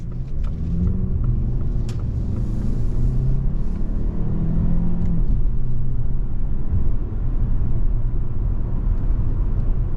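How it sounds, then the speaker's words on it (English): A 2023 Lincoln Corsair Standard II AWD drives in sport mode, giving a steady, loud engine and road rumble from inside the cabin without let-up. "We go right to sport in a Corsair to see how this thing is going to drive."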